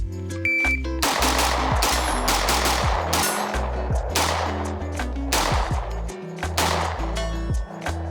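Rapid gunfire from a Sig Sauer MPX Copperhead 9mm on an outdoor range, shooting at a target out to 200 yards; loud, sharp shots come in quick bursts and strings across the whole span, close to the microphone.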